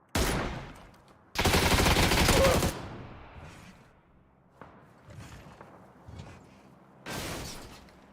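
Automatic gunfire from a PUBG match rattles in dense bursts, a long loud volley followed by scattered shorter shots and another burst near the end.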